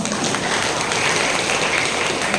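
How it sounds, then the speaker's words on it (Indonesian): Audience at a Ramadan religious gathering claps in a loud, dense burst of applause that fills the whole short stretch without pause. "Tepuk tangan."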